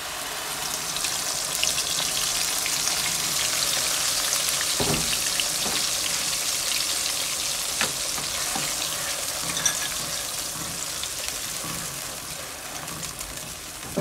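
A ground onion and green chili paste fries in hot oil with a steady, dense sizzle, close and loud throughout, broken by a few soft stirring knocks from a spoon against the pan.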